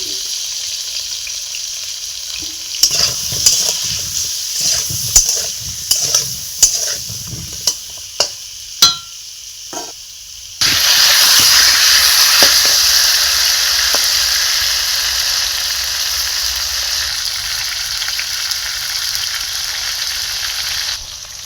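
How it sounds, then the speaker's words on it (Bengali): Potatoes fry in hot oil, a steady loud sizzle that swells when they hit the pan, after a series of sharp clanks and stirring knocks from a spatula. "আলুগুলো আমার লাল লাল করে ভাজা হয়ে গেছে,"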